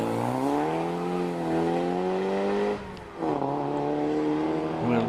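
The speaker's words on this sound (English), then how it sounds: "It's 22 Will Goff in the Ford Sierra Cosworth" A Ford Sierra Cosworth races up the Prescott hill climb, its engine revving hard in rising harmonic sweeps, dropping briefly on a gear change before pulling strongly again, loud and close.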